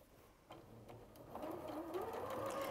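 A sewing machine stitches along a marked line, starting with a few soft clicks and then building into a steady, rising mechanical whir, fairly quiet and close.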